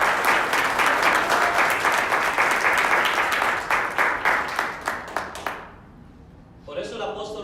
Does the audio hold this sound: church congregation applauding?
yes